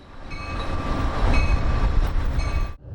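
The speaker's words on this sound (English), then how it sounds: "The train speeds out of the city and through the attractive suburbs of Chicago" An Amtrak California Zephyr train departing Chicago rumbles steadily and loudly along the track, a broad roar with faint rail squeal that cuts off sharply near the end, with no voices.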